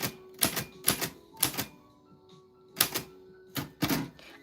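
A typewriter clacks out a letter in short bursts of keystrokes, close and crisp. The bursts come in clusters separated by brief pauses.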